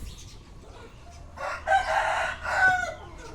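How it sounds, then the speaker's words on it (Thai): A young Burmese rooster crows once, close and clear, its call rising and wavering for about two seconds over quiet farmyard background. "ตัวนี้เป็นไก่หนุ่มบัดโดนนะครับ"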